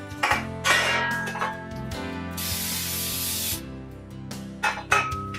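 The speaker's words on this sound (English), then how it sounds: "I'm just gonna spray these. These are like a Baker's Joy non-stick so that it comes off the pan." An aerosol can of Baker's Joy non-stick baking spray hisses out a steady spray onto cake pans for about a second, with clinks of metal pans being handled before and after.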